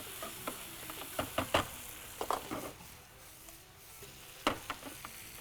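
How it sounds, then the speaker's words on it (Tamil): Onion and tomato sautéing in oil with mustard seeds, a soft continuous sizzle broken by irregular scraping taps of a spoon stirring and pressing in the pan, close and fairly quiet, with no voices. "எண்ணெய் ஊற்றிட்டு கடுகு தாளிச்சு வெங்காயம் தக்காளி பழத்தை ஒரு தொக்கு மாதிரி வதக்கிட்டோம்"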